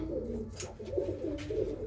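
Domestic pigeons kept by a fancier coo in a continuous low murmur at close range, with soft overlapping calls and no talking.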